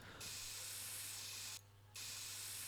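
Hissing bursts from a spray can as a car chassis is painted orange in the My Summer Car video game: a long, even jet, a brief gap, then another steady hiss, close and clear.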